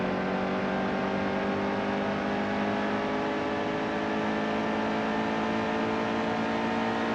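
A NASCAR Xfinity Series race car engine in the video game NASCAR Heat 2 roars steadily at full throttle, its high whining drone climbing in pitch as it accelerates, loud and continuous throughout.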